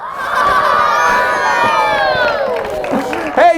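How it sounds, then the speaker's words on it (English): A room of children at a magic show at a birthday party, shouting and cheering together in a loud sustained burst of high excited voices, fading slightly near the end. "Hey, give Trajan another big round of applause."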